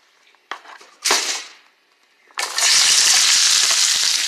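Browned potatoes and chopped onion, poblano and mushrooms with beef hit a hot pan, with a couple of sharp clatters and a brief sizzle followed by a loud, steady frying hiss, close up and without talk.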